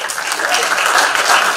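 Hackathon audience applauding as the winners are called up, a dense, steady burst of many hands clapping at close range.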